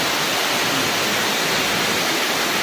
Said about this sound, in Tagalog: Malalim na po baha dito.